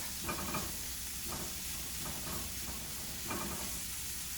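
Spiced onions and tomatoes sizzle in a pan for a breakfast burrito, a constant close hiss of frying with intermittent scrapes and stirs of a utensil against the pan.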